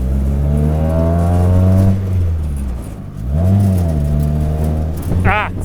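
Miata-engined Datsun roadster with low-slung exhaust pulling away and revving through the gears, engine note climbing, dropping on a shift, then rising again, loud and close throughout.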